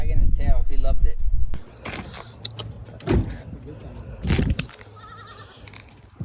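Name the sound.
goat named Timmy bleating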